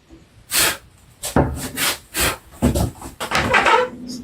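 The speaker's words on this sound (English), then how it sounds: "Sharp chisel down." A sharp chisel is pushed down by hand through wood fibres while cutting a half lap joint, making a series of rasping, scraping strokes, close and fairly loud, about six cuts in an uneven rhythm.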